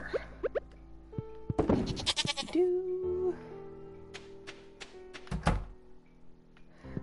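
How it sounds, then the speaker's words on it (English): Farm animals in Stardew Valley let out several drawn-out calls, mixed with sharp thunks and taps of gameplay that come in scattered bursts. "So loud. Loud, loud cows!"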